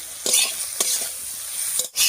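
Bitter gourd seasoned with salt and turmeric is stirred in a hot pan, a few scraping spatula strokes over a steady close sizzle, alone without talk.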